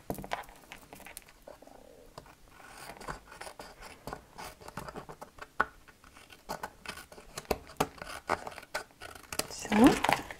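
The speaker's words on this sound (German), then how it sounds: "den schneide ich mir einfach kurz ab." Scissors snipping off a small overhang of card stock while a birthday card is made, a series of soft, quick crisp cuts heard under someone speaking German.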